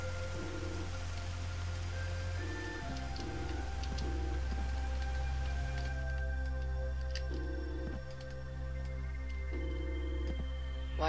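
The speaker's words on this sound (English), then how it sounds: "Why is it raining in here?" Steady rain in the video game Dig or Die patters continuously across the whole stretch, with soft ticking drops over a low constant hum and faint tonal music beneath.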